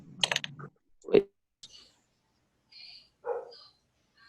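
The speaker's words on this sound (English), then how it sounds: "My dogs are barking now too." Several house dogs bark in short, sparse bursts somewhere in a home during an online algebra lecture, heard faintly and at a distance with quiet gaps between the barks.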